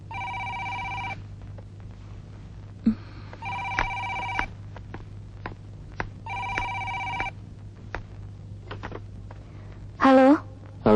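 A telephone bell rings in three repeated bursts, each about a second long, over a steady low hum, with sharp clicks between rings and a brief voice near the end.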